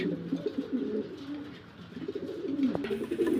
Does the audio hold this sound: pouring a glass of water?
no